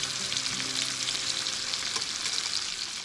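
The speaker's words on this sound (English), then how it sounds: "So it's time now to turn the salmon, and we'll wait until it's cooked again." Salmon fillets sizzle loudly in butter in a pan, a dense continuous crackling hiss up close with no voices.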